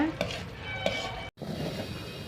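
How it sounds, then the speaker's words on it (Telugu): Grated coconut fries in a pan to separate its oil, a soft sizzle under scraping stirs of a spoon, with a couple of sharp clinks and a brief cut to silence. "అలా అప్పుడే కొంచెం గోల్డ్ కలర్ వచ్చేదాకా ఫ్రై చేసుకుంటూ ఉండాలి"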